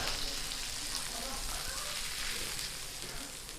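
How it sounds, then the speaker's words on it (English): A tomahawk ribeye steak sizzles in a butter-coated pan, a dense, steady crackling hiss heard up close that holds evenly and eases slightly toward the end. "And we continue buttering up the steak here. Give it a flip."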